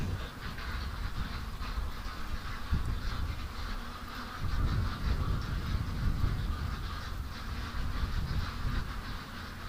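Ducks in a pen at night, agitated by a nearby coyote, give loud, continuous quacking and honking calls that swell and overlap in a dense, close chorus with no voices.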